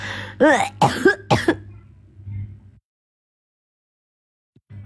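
Several harsh, loud coughs burst out in quick succession, then trail into a rough throat sound, leaving a short silence afterward.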